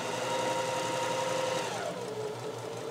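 A Janome HD3000 sewing machine stitches through standard cotton, its motor running as a steady close mechanical whir with a rapid needle rhythm that eases down slightly toward the end.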